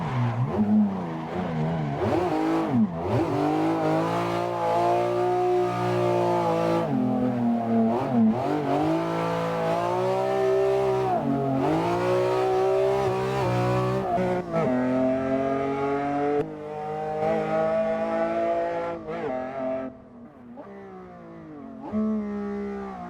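A BMW E46 drift car in a video game, its engine revving hard through rising and falling harmonic sweeps while the tyres squeal and skid, loud and continuous with only brief lifts off the throttle.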